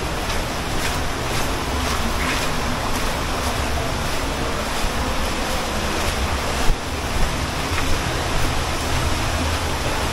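Water swirls and surges steadily inside a sea cave, a continuous broadband wash of moving water with soft rumbling underneath and a few brief splashes near the end, no voices.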